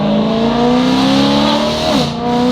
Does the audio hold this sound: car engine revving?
yes